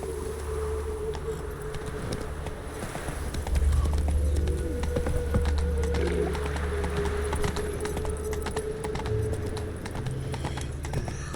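A horse gallops steadily in The Witcher 3 video game, with continuous rhythmic hoofbeats and a constant musical or ambient drone throughout.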